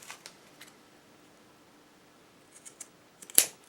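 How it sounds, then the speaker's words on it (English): Scissors cutting material for tassels, a few faint snips spread across a quiet stretch, then a sharp, close cut near the end. "So what I'm going to do first is cut exactly what I need."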